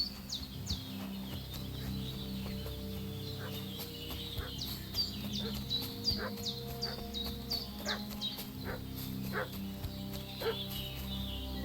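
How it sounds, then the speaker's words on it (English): A dog barks repeatedly in Kingdom Come: Deliverance 2, with clucking chickens and other fowl around it in a village setting and sharp bursts over a steady ambient bed. "What's that dog making such a fuss about?"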